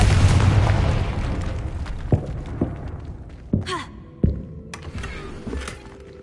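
Confringo fire spell explosions in Hogwarts Legacy on PlayStation, a heavy rumbling blast followed by several separate sharp thumping bursts spaced about a second apart, tapering off toward the end.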